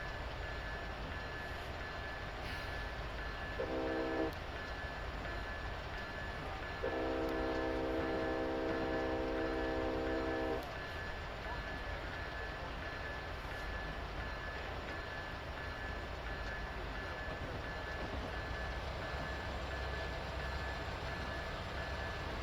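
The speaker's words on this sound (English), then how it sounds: "I didn't get the information on that train in time" A freight train rolls past on Sherman Hill, a steady loud rumble of rail cars throughout, with its horn sounding a short blast and then a longer sustained one.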